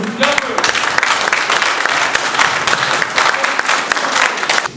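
Loud, dense applause from an audience of border guards at a concert in an eastern Ukrainian conflict zone, a continuous roar of clapping hands sustained throughout.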